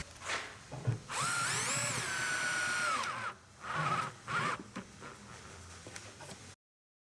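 Tape peels off a bent wood frame in squealing, screechy pulls, one long stretch and then shorter tugs, close and fairly loud.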